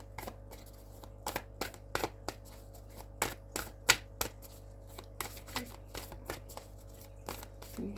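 A deck of cards is shuffled during a card reading, with repeated crisp riffling bursts and snaps in an irregular rhythm, close and clear over a quiet room hum.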